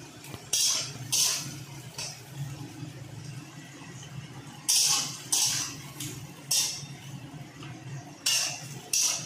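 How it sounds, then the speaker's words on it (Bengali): Chopped onions are stirred as they fry in a pan, with repeated bursts of spatula scraping against metal coming in uneven strokes and pauses over a soft, low background hum. "পেঁয়াজগুলো দিয়ে ভালো করে নাড়াতে হবে"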